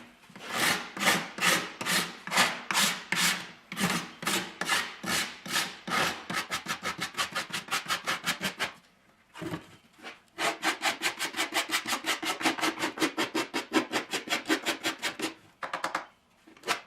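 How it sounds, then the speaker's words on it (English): A wood rasp filing wood by hand, producing long trains of quick, even scraping strokes, close and crisp, with brief pauses between bursts. "This rasp makes it pretty effortless and real easy to control."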